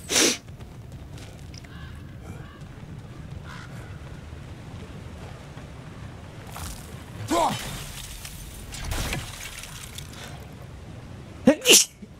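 A character sneezes in the video game God of War Ragnarok, with sharp bursts near the start and again at the end over quiet ambient game sound, and a voice speaks briefly in between.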